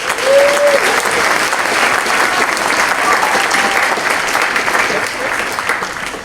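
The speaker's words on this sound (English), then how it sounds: "Let's give them a round of applause, please." Loud, sustained applause from a school audience after a 6th grade choir performs at a December choir concert, dense clapping with a brief cheer near the start, holding steady throughout.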